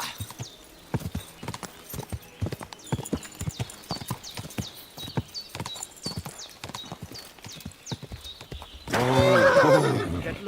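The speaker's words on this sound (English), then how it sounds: "looks like a bloody expensive horse" Horse hooves clip-clop steadily at a race track in the medieval game Kingdom Come, then the horse gives a loud, close neigh near the end.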